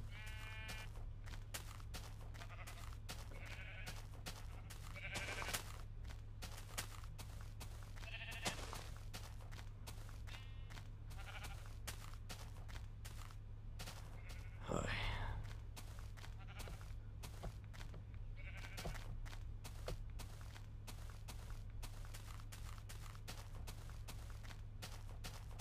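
Sheep in Minecraft bleat in a few short nasal calls spread across a steady low droning background, with occasional brief sharp game effects mixed in.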